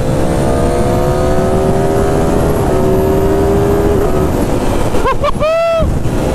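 Ducati Streetfighter V4 S fitted with an SC Project titanium exhaust, its engine droning loud and close in a steady rising tone, then a sharp rev with quick pitch sweeps near the end, with wind buffeting throughout.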